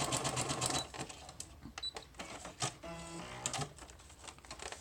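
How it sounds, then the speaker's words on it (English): Sewing machine zigzag stitching over packing paper for a handmade journal, bursts of rapid mechanical clatter and paper rustle, close and fairly quiet, with short pauses between runs. "I'm going to go ahead and zigzag over it again, just to make it really strong."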